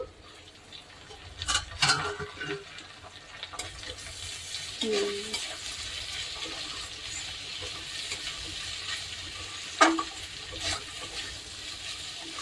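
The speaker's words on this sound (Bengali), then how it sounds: "ভাজা ভাজা মনে হয় প্রায় হয়ে এসছে।" Small fish frying in a pan give off a low, steady sizzle, with intermittent stirring scrapes and clatters, heard fairly quietly with no talking.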